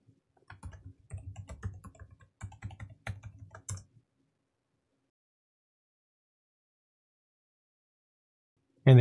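Bursts of keystrokes on a computer keyboard typing a Linux terminal command, a quick clattering run of clicks for about four seconds, fairly close, then silence and a short final sound.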